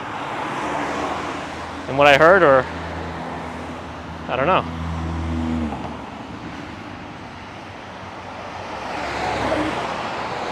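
Car traffic passes on a street near the Brooklyn Bridge in New York City, a steady broad roadway rumble with passing vehicles swelling and fading, while someone talks briefly over it.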